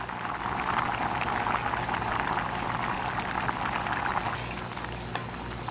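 Dumplings going into a pot of boiling Caribbean stewed beef with peas, a constant bubbling, rolling boil that stays loud and close with small splashes throughout.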